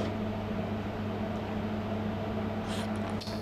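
A core cutter bores through metal at about 200 revs, flooded with liberal amounts of kerosene. It makes a steady, loud mechanical drone with a constant low hum that holds unchanged throughout, and a brief hiss comes near the end.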